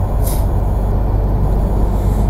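MAN Euro 6 truck with a 63-plate registration rumbles loudly up close, a short hiss of air brake release bursting out near the start over the heavy, steady low engine drone.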